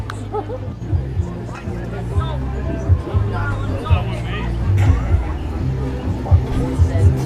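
Steady murmur of a packed crowd at a full baseball stadium, continuous distant chatter and babble holding at an even level, with a low hum underneath and a commentator's voice talking over it.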